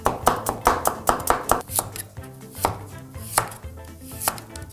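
A knife chops cucumber on a cutting board in quick, even strokes, close and crisp, then slows to a looser, scattered rhythm toward the end.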